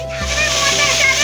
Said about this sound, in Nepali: झरनाको आवाज